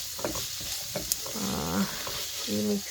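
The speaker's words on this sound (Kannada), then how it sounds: "ಮತ್ತೆ ರುಬ್ಬಿದ್ದಕ್ಕೆಲ್ಲ ತಡ್ಕ ಕೊಡ್ತಿದ್ದೀನಿ." Tempering poured into ground paneer gravy paste in a home kitchen, a soft sizzle and frying crackle with some stirring, fairly quiet.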